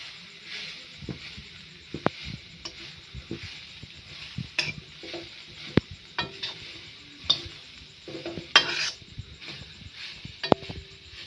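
Grated coconut fries in a hot wok on a gas flame, with a soft continuous sizzle broken by repeated scraping stirs and sharp clicks of the spatula against the pan.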